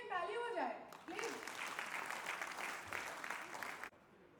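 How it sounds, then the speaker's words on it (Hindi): Clapping from a crowd at an awards ceremony breaks out after someone speaks briefly, a dense patter of many hands lasting a few seconds before stopping abruptly. "खुद के लिए ताली हो जाए प्लीज"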